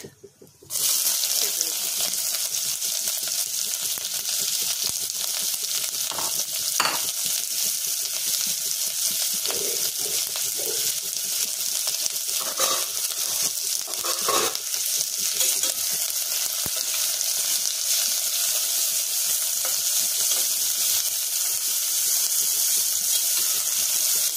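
Onion, garlic, ginger and two dried red chilies with five-spice seeds fry in hot oil in a pan for a cowpea and sponge gourd curry, a steady loud sizzle throughout with occasional brief squeaks of stirring, no talk.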